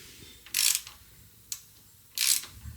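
A wrench turns a push rod down on a Mercruiser 3.0 boat engine. It gives two short ratcheting bursts with a single click between them, close and fairly quiet over a faint low hum.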